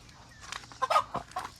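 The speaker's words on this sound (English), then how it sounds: "There's my Rhode Island rooster." A Rhode Island rooster and backyard chickens cluck close by in a brief burst of throaty, overlapping calls, with low farmyard noise underneath and no talking.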